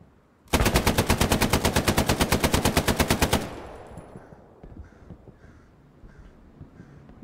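A rapid burst of machine-gun fire in the World War II shooter Hell Let Loose, about three seconds of steady loud automatic shots, then quieter distant gunfire and battle noise trailing off.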